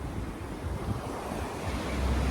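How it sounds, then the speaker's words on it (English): Ocean waves crash and wash onto a Costa Rica beach in a steady low roar, with wind buffeting the microphone throughout and the surf swelling slightly louder toward the end; no one speaks. "The waves crashing."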